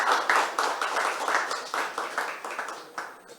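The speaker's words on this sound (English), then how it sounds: "Let's welcome him with a loud clap." A crowd at an anniversary event applauds steadily to welcome a governor, many hands clapping together in a dense, continuous patter that stays loud and even throughout.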